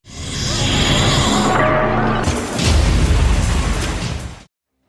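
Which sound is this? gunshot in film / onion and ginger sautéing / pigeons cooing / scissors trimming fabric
gunshot in film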